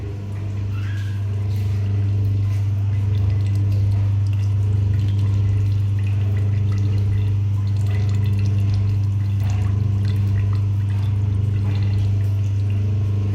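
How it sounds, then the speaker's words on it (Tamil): Gooseberry juice distillate trickles down during hillside preparation of a traditional herbal remedy, a steady liquid flow heard over a loud continuous low hum from nearby equipment. "இந்த தீநீர் பார்த்து இறங்குது பாருங்கள்."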